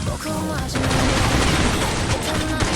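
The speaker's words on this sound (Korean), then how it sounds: "기관총 총알 좀 아끼면서 해야겠다 이거 내가 너무 정신없이 기관총을 갈겼는데" Rapid, dense machine-gun fire in the Counter-Strike Online video game, loud and continuous bursts filling the whole moment with no pauses.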